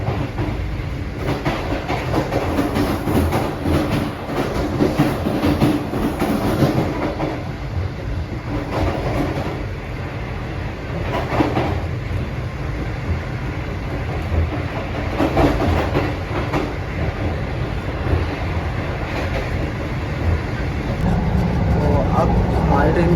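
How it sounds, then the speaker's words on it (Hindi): The Shalimar Express, running at over 100 km/h, rumbles steadily through Feroza railway station, heard from inside with continuous wheel clatter and rhythmic clicks, and voices talking beneath the noise. "अब हमारी ट्रेन गुजर रही है फेरोज़ा रेलवे स्टेशन से अच्छी रफ्तार में।"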